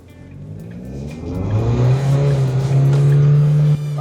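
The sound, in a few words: MG TRQ L car accelerating into a hard left turn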